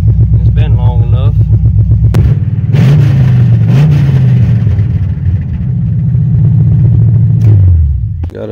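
A 1986 Chevrolet Silverado pickup truck drives down the road. Its engine drones and rumbles loud and close, rising with a rev midway, while a person talks over it.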